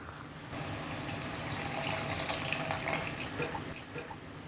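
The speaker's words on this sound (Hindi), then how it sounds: "हम पानी डालकर इसकी कंसिस्टेंसी को एडजस्ट कर लेंगे।" Water pours steadily into a thick chicken angara gravy, a soft continuous splashing and gushing stream lasting a few seconds with no talking.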